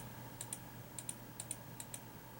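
Mouse double-clicks in dental imaging software, heard as four faint, closely paired clicks spaced evenly over a steady background hum.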